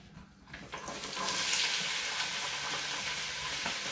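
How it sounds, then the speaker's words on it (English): Bell peppers hit a hot pot for one-pot jambalaya and burst into loud, close sizzling that swells within the first second and then holds as a steady crackling hiss, with no talking. "I think I'm heated up enough here, so I'm gonna go ahead and put them all in"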